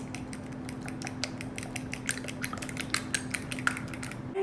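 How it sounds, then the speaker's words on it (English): A fork briskly whisks egg and a pinch of salt in a bowl, making a quick, steady run of light clicks and taps against the bowl over a low background hum. "we're gonna just mix it together"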